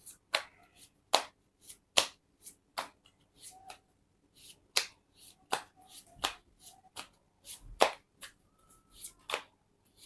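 Tarot cards being shuffled by hand make sharp, dry slaps and riffles in uneven bursts, close to the listener over a quiet background, with no voices.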